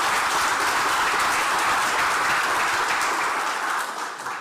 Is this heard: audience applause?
yes